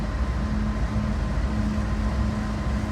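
Amtrak Lake Shore passenger train passing in West Springfield, a continuous steady rumble with a faint tonal hum, heard from trackside at moderate level and without pause.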